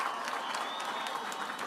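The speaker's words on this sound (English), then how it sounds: "we start off with a big round of applause for everybody" A crowd at the Danbury High School 2019 graduation claps in a brief burst, with individual claps showing through a fairly faint, distant wash of applause.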